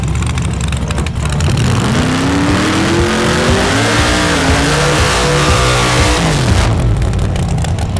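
A G-body drag race car launches and makes a pass down the strip, spinning its tires at the hit, engine climbing loudly through rising revs and gear changes before fading away.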